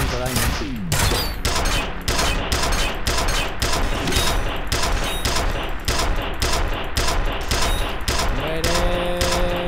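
Rapid automatic gunfire rattles almost continuously in the video game F.E.A.R., loud, close bursts with brief gaps, mixed with game effects and occasional voices.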